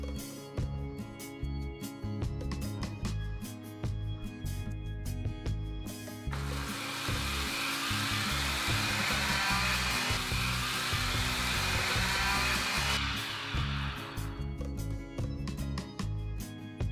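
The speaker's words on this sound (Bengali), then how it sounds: "এটাকে একটা মিক্সি জারের মধ্যে নিয়ে নেব এবারে আমরা মশলাটাকে গুঁড়ো করে নেব" A mixer grinder jar coarsely powdering roasted spices whirs loudly and steadily for about eight seconds, rising abruptly and cutting off, with background music playing throughout.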